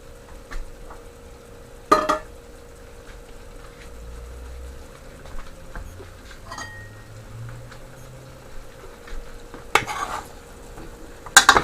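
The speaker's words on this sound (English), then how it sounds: "So now my Karelia is frying down to the oil." Bitter melon (karela) stuffed with shrimp frying in oil, a faint low sizzle under occasional utensil scrapes and a couple of sharp clinks of cookware, no talking.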